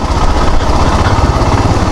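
A Royal Enfield Himalayan motorcycle engine thrums loud and close while riding off-road, a steady rapid single-cylinder chug with no pause.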